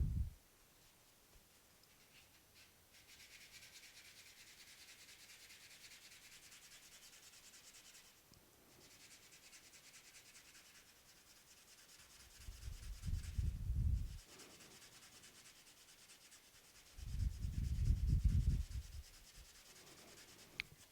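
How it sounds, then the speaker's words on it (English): Sandpaper rubbed against a knife blade in a workshop gives a steady, soft abrasive hiss throughout, with two louder, heavier bursts of rubbing near the end. "now I'll go ahead and sand this"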